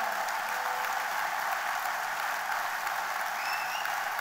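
An audience claps steadily and evenly for a Belgian secretary of state, Melchior Wathelet, at a political gathering in Marche-en-Famenne, a dense wash of applause holding at the same level from start to finish with no voices.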